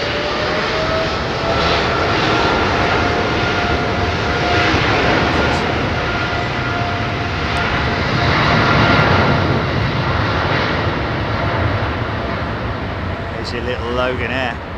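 A Loganair ATR 42 turboprop runs at London Heathrow Airport, giving a sustained engine drone with a faint steady tonal whine, heard fairly close and swelling gently. Someone talks over it near the end.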